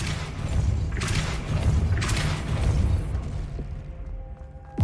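The Depulso spell fires in the Hogwarts Legacy video game, giving a heavy, booming thud followed by a rumbling blast that sustains loudly, then fades to a faint ring at the end.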